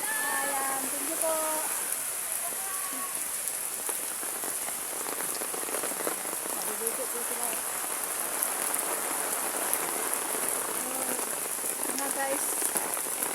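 Heavy rain from Typhoon Carina pours steadily during flooding in Metro Manila, a dense continuous hiss of drops on surfaces, with voices of people talking briefly in the background.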